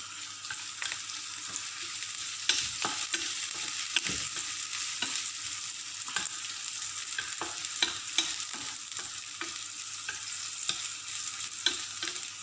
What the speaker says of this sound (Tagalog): Lutuin lang natin si hotdog.